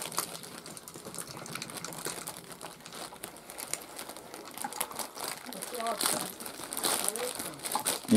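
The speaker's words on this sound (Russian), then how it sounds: "пакетик такой, как будто с AliExpress" A thin plastic packet from a parcel is unwrapped close by. It crinkles and rustles steadily throughout, with sharper crackles near the end and a voice faintly present underneath.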